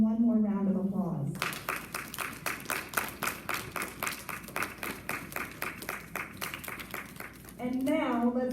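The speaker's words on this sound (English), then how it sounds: "Let's give him one more round of applause." Audience at a school awards ceremony applauding a nominated fifth-grade student, a rhythmic round of clapping that swells after speech and carries on for about six seconds, with a voice resuming afterward.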